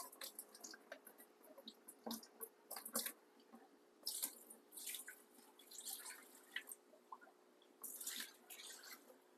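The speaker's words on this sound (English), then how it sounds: "so I will pour out some of this water" Irregular splashes and drips of water poured out in short bursts, close by, with quiet gaps between spills.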